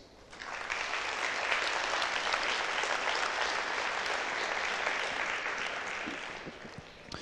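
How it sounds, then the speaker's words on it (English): An audience at a tech conference applauds, rising quickly to a steady, even wash of clapping that holds, then thins out near the end. "So give yourselves a round of applause for still being here right now instead of making an excuse"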